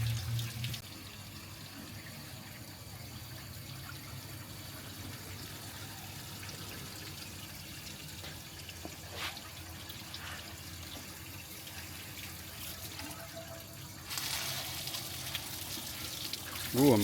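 Water rushes steadily through a blocked car radiator being reverse flushed on a Chrysler road trip, a constant broadband hiss at moderate level that grows louder near the end.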